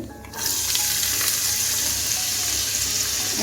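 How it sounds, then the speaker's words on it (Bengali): Chopped onion drops into hot oil with tempered spices for a dahi chicken: a short quiet moment, then a sudden burst of bright sizzling that holds steady and close. "আমি এখন পেঁয়াজ কুচিটা দিয়ে দিচ্ছি"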